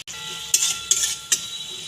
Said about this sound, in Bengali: আমি ভালো করে নেড়ে চেড়ে নেব।